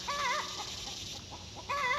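Chickens cluck nearby in a garden, with two distinct bursts of warbling clucks at the start and end separated by quieter scratchy ambience.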